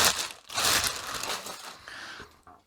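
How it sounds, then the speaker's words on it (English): A thick plastic bag is pulled out of the packaging of a Keg King Apollo 30 litre snub nose fermenter, giving loud, close crinkling and rustling in irregular bursts that quieten toward the end. "We'll take the plastic bag out."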